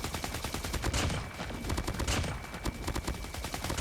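A rifle firing in a mobile shooter game, a continuous rapid stream of loud, close shots with no voice over them.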